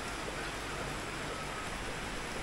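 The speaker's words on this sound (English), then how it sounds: "As I get older, I enjoy the rain." Steady rain pours down in Luang Prabang, Laos, a dense continuous hiss filling the air at a hotel, with no voices or other sounds over it.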